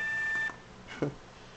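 A single steady electronic beep tone sounds briefly at moderate volume, then cuts off, leaving faint background noise.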